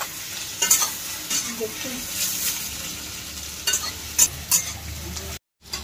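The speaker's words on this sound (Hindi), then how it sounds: "हल्का तेज भून कर लेते हैं, अभी होने देते हैं, हल्का भूनने" Onion fries in a pan for pot kaleji chicken, with a steady close sizzle, a few sharp scraping stirs and metallic clinks, and a brief break near the end; a voice speaks briefly.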